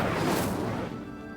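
The Incendio fire spell in the video game Hogwarts Legacy bursts out as a loud, roaring whoosh of flame that hits hard at once and then fades away over about a second.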